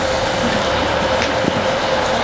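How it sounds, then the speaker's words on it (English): A train pulls into a station near Crianlarich on the line from Glasgow, a loud steady rumble with a faint squeal and a single clunk, close by, with no one talking. "that's how we know that the train is at Crianlarich, just 5 minutes down the line, so it'll be here soon"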